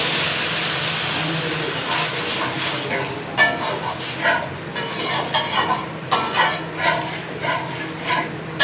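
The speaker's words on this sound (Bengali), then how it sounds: "এবার ভাতের মাড়টা আমি অ্যাড করবো এখানে।" Rice starch water is poured into jute greens cooking in a pan, bringing a steady sizzle and hiss with stirring and scraping clatter, fairly close, while a voice talks over it.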